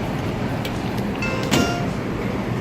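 Rumble and rattle of a Chicago Blue Line subway train in motion, with faint high squeals and a brief clunk midway, no voices.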